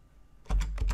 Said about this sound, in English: I've typed it in